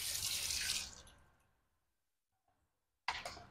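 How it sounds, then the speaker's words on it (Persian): Water pouring into a pot of soaked rice, a steady splashing stream that fades out into silence, then a brief second burst of pouring near the end. "یک کمک آب علاوه میکنیم بهش."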